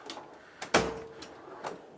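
Metal tool drawer in a trailer supply shop sliding open or shut, a sharp clunk with a short metallic ring, flanked by a few lighter knocks and rattles, close and alone.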